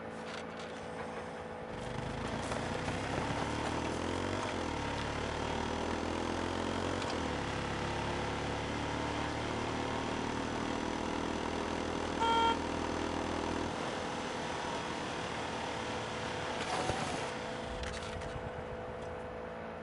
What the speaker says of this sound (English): These mopeds are loud.